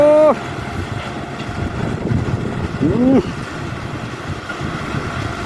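A Kubota M6040SU tractor engine drones steadily while plowing a dry rice field outdoors, with wind buffeting the microphone and a couple of brief rising tonal whines over the continuous rumble.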